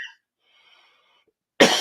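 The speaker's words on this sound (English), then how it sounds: "I'll let you get the cough out of you." A single short cough at the end after near silence, loud and close, preceded by faint rustling.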